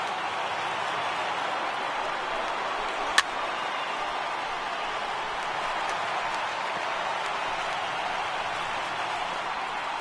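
A baseball crowd of over 29,000 in MLB The Show 18 gets to its feet during Arizona at Pittsburgh, making a steady broadband roar at an even level for the whole stretch, with one brief sharp tick near the middle.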